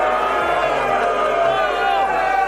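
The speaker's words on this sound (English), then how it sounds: "the audience, you may boo away for 5 seconds if you'd like to" Studio audience on a live television talk show booing in a sustained, dense roar of many voices, steady and loud throughout with no pauses.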